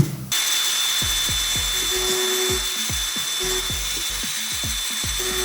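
Dremel rotary tool cutting into a rolled M2 part, a loud high-pitched whine starting abruptly, with repeated dipping pitch sweeps as the bit bogs under load.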